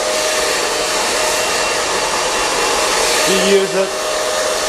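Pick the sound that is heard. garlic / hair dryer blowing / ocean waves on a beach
hair dryer blowing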